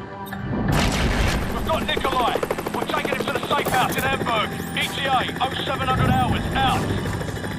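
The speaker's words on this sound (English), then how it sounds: "Incoming missile." Incoming missile strike in Call of Duty 4: Modern Warfare, a dense wartime din of heavy rumbling, booms and whining aircraft noise with scattered gunfire, loud and continuous for several seconds.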